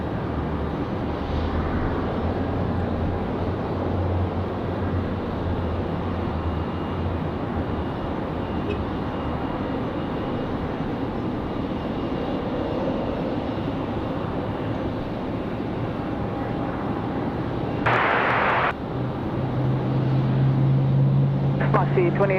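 A Boeing 787 Dreamliner arriving at Raleigh-Durham airport on a windy day gives a steady, broad engine roar with wind rumble throughout, while a person talks over it and brief radio chatter breaks in.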